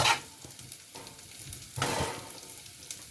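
Onions frying for a Brussels sprouts curry, sizzling steadily in the pan as a spoon stirs them in short scraping strokes, close and fairly quiet.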